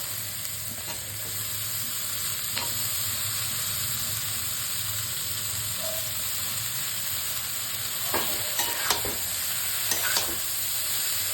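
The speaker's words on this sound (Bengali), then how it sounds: "ব্রোকলি আর মাশরুম ভাজবো।" Broccoli and mushrooms fry in a pan with radhuni seeds and onion, giving a steady soft sizzle throughout, with a few brief stirring scrapes and clinks near the end and no talk.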